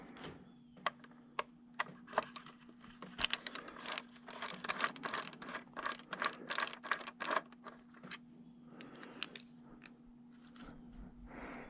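Small screws being removed from a Honda 1300 odometer, heard as quiet, close, irregular clicks and light scraping taps over a steady low hum, with no talk.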